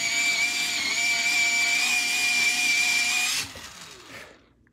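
An electric pencil sharpener whines steadily for about three seconds, a loud, close motor buzz with a bright tone, then cuts off and winds down with a short rattle.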